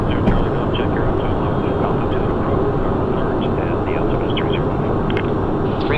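A Cessna Citation 501 jet roars steadily and loudly on its takeoff run down the runway, a dense continuous engine rumble with a hissing top and no pauses, heard from inside the aircraft.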